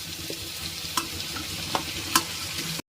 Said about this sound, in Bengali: এটা একটা মিষ্টি গন্ধ বেরোনো অবধি আমি একটু ভাজবো।